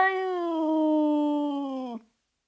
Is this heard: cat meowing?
yes